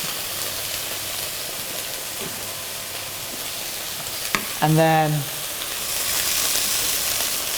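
Turkey, red peppers and spring onions fry in a pan with a soft steady sizzle, broken midway by a brief tonal squeak and a burst of louder hiss as more food goes in. A voice speaks briefly.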